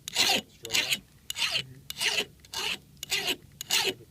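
A file rasps along an axe blade in about seven even strokes, each a bright scraping burst separated by short pauses, close and clear.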